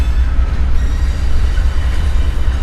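A train rolling through a rail yard, a loud, close, continuous heavy rumble with steady wheel noise and no pauses.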